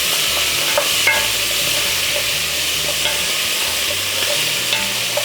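Onions, carrots, celery and garlic fry in a pot for braised beef short ribs, a constant close sizzle broken by repeated scraping stirs and light utensil knocks, with no talking.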